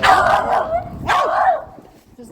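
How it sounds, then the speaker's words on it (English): A dog in Blackpool barks twice out on the street, each bark loud and close, ringing briefly over traffic noise with people talking nearby. "That's Blackpool dog for you."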